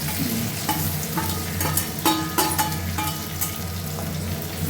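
Onion, capsicum and green chili stir-frying over fairly high heat for chili chicken, a loud close sizzle with repeated clanks and scrapes of a spatula against the pan, no voices.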